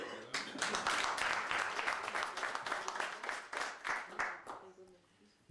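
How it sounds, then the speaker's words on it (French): An audience applauds a Korean War veteran at a National Assembly medal ceremony for former soldiers, with steady clapping that starts abruptly, holds strong, then thins into scattered claps and fades. "on peut l'applaudir"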